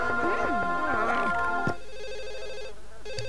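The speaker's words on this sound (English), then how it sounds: "The phone is ringing." A telephone rings in The Sims 1 video game, a repeating electronic bell pattern heard after a stretch of busy in-game melodic music and sound effects, steady and fairly loud.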